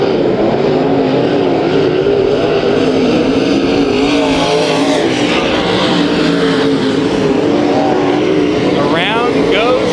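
IMCA Modified race cars roaring through a heat race on a dirt track at Kings Speedway, a loud continuous engine drone with shifting pitch as cars pass, a brief rising whine near the end.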